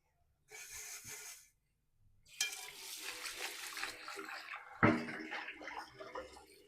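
A cooking vessel is rinsed and washed with water in a home kitchen during Ramadan iftar preparation. Two bursts of splashing, scrubbing water are heard: a short one, then a longer, louder stretch with a sharp clank near the end.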